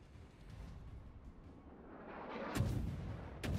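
Battleship guns fire in the World of Warships game, low rumbling booms building up and then two sharp loud blasts near the end.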